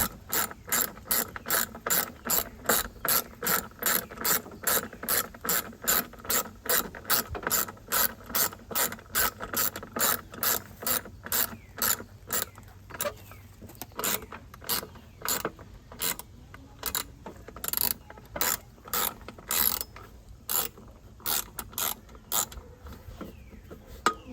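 Steady rapid ratchet clicks from a hand ratchet tightening a bolt on a Briggs and Stratton lawn mower, close and loud, rhythmic strokes slowing and turning irregular later, with no voices.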